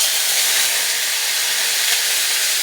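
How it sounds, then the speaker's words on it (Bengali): Bay leaf, dried chilli and cumin sizzle in hot oil, giving a loud, steady, even hiss that never lets up. "এখানে তেজপাতা শুকনো লঙ্কা দিয়ে দিচ্ছি, তার সাথে সাথে আমি জিরেটাও দিয়ে দিচ্ছি"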